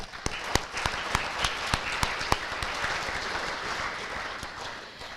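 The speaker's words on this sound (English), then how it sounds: "hard-working members one more round of applause," An FFA banquet audience gives a round of applause, a steady clapping wash with a few loud, distinct claps close by in the first half before it gradually thins.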